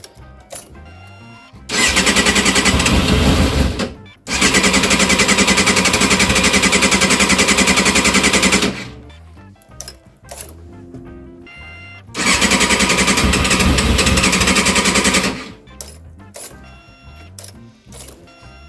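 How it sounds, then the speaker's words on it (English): A Yamaha FZR 600R motorcycle fuel pump, unused since 2019 and holding old gasoline, runs in three loud, steady buzzing bursts of about three to five seconds each, with quiet gaps between them. "run the pump, again it hasn't been started since 2019."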